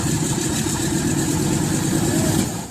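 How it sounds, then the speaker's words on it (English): A World War II C-47 aircraft's radial engine starts up after ten years idle, giving a loud, steady, rumbling drone that runs throughout and eases off slightly at the end. "This C-47 beauty since World War II is waking up for the first time in 10 years."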